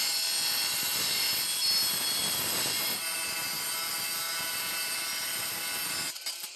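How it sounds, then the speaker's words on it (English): An angle grinder fitted with a diamond blade cuts through a ceramic tile in a continuous loud, high-pitched whine and grinding roar, sustained for several seconds before spinning down near the end. "I use my grinder with a diamond blade to cut the pieces of ceramic tile from a larger"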